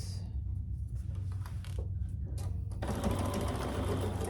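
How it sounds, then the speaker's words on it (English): Sewing machine stitching binding at a 1/4 inch seam allowance for a tote bag, a steady rapid whir of needle strokes that grows louder near the end. "we're going to sew that at a 1/4 inch seam allowance"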